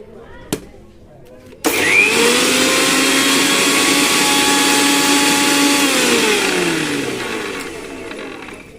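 Electric mixer grinder grinding mustard seeds, switching on with a sudden loud whirring motor that holds a steady high drone for several seconds, then winds down as it slows.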